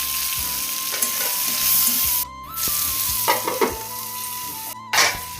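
Potato and pumpkin pieces sizzle steadily in hot frying oil seasoned with black cumin seed, a continuous close crackle with brief stirring scrapes and a couple of short breaks, no one talking.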